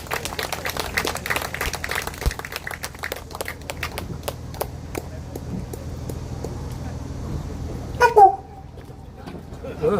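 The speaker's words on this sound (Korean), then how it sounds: "박수 부탁드립니다" Clapping from a gathered crowd at an outdoor rally in Songdo, Incheon, welcoming a speaker: scattered hand claps that thin out over several seconds, followed by a brief burst of other noise and quieter ambience near the end.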